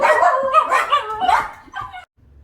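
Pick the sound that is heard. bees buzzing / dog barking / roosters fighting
dog barking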